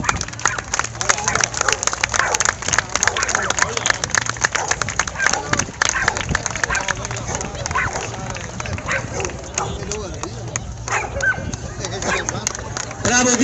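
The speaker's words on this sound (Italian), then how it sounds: "Bravo Diesel, un applauso." Scattered hand claps from an audience honour Diesel, a working dog, at an evening event in Adria dedicated to four-legged companions. The claps are irregular and fairly close, with a voice talking over them.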